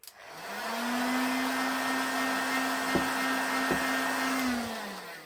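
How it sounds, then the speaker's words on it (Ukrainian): A hair dryer whirs at a steady pitch for several seconds, drying filler on a leather shoe repair, close and constant, with a couple of faint clicks before it winds down. "Можна взяти трошечки підсушити її феном."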